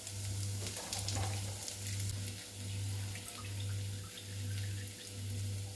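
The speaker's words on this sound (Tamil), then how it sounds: "இந்த மாதிரி ஒரு வடிகட்டி வச்சு இந்த தண்டை ஊற்றிடலாம்." Chopped banana stem and water are poured into a strainer while making banana stem poriyal, giving a steady rushing splash of draining water over a low pulsing hum, with no talking.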